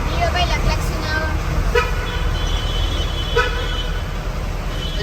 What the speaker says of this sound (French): Lui là-bas, il a klaxonné avant.